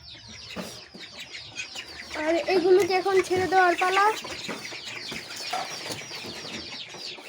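Brooding hens, due to hatch chicks within a week or two, cluck among farmyard fowl in a short, louder burst near the middle while someone talks over them throughout.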